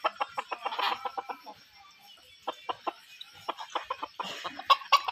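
Two red chickens clucking in quick repeated bursts, close by, with a quieter pause midway before the clucking picks up again, no one talking over them.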